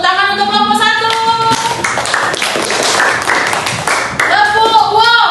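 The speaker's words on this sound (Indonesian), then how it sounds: "Bagus, tepuk tangan untuk kelompok 1." Classroom of fourth-grade children clapping for a group at an Islamic primary school, dense hand claps under overlapping voices and chatter, loud and close, with speech returning at the end.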